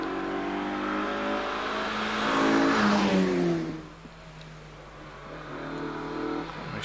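An 1800cc Mazda MX-5 race car on the Prescott hillclimb course, its engine rising loudly as it accelerates past through the S-bends, then dropping away and fading into the distance.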